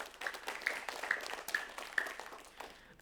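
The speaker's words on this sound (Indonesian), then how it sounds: "Tepuk tangan buat Cynthia." Audience at a religious talk show applauding for a guest, a modest crowd clapping at moderate distance with an even, slightly thin texture that fades gradually, ending on a sudden louder burst.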